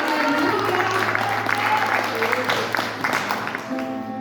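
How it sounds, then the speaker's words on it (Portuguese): A church congregation applauding during a Portuguese-language worship service, a continuous spread of clapping hands over sustained music tones, moderately loud and gradually easing toward the end. "Aplauda o Senhor, porque Ele é bom"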